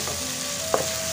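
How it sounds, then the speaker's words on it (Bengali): Chopped onions sizzle steadily in hot oil, a brief close hiss with a single sharp crackle partway through. "পেঁয়াজটাকে তেলের মধ্যে ভালো করে"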